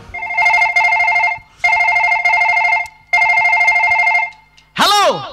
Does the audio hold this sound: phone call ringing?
yes